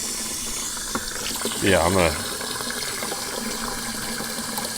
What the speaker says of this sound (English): That's why I'm putting a bunch of water in here first.